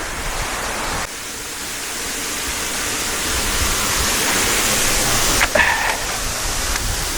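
A waterfall and stream in the Philippines roar with rushing water, a dense, steady wash heard up close that swells slightly with a brief splashy surge partway through.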